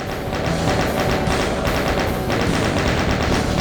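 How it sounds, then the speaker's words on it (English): Rapid, sustained chain gun fire in the Doom II video game, a loud continuous stream of evenly spaced shots with no pauses. "Shoot them pretty easily with the chain gun."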